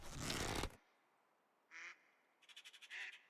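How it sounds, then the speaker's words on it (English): Ducks in Medieval Dynasty give a couple of short quacks after a burst of rustling, then a rapid string of quick quacks near the end, faint against a quiet background. "I think we see our ducks up ahead"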